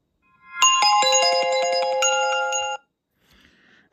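An Apple iPhone 16 Pro plays its Valley ringtone: a bright, bell-like melodic phrase of layered chiming tones lasting about two seconds, clear and close, then cutting off to near silence.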